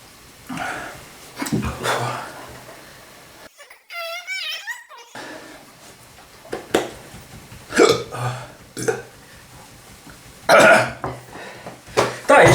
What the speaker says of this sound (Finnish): Ekaa kertaa tuli hikka.